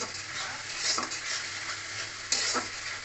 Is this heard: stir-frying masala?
yes